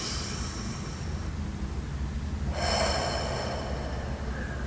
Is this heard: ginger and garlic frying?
no